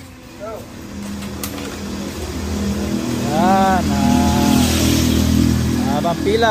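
Motorized tricycles idle and rev while queued at a tricycle line, a loud, close, continuous engine drone that builds and holds, with a voice briefly speaking over it.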